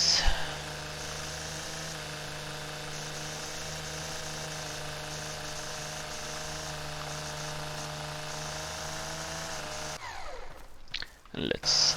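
String trimmer cutting grass in a lawn mowing simulator video game, buzzing in a steady drone for about ten seconds before stopping, then followed by a few brief clattery noises.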